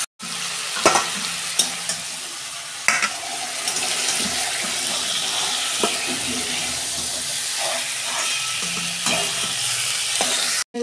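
Prawns frying lightly in oil in a kadai, with a continuous close sizzle and occasional clattering stir strokes, no talking.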